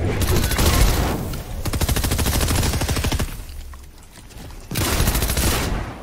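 Shotgun blasts in a video game, fired in rapid, dense bursts: three loud stretches of repeated shots separated by brief lulls, with no talking.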